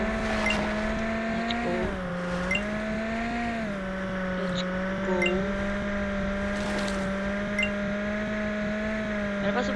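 Cars racing in the Driving World video game: a continuous tonal engine whine that shifts pitch as the cars change gear, with brief squeals and whooshes and a voice speaking over the top.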